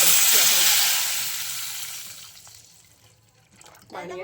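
Water pouring into a pot for jeera rice in a loud rushing stream that fades over a few seconds, ending with a brief clatter.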